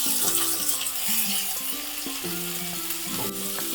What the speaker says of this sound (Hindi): अब हम इसमें फ्रोजन मिक्स वेज ऐड करेंगे। फ्रोजन मटर ऐड करेंगे।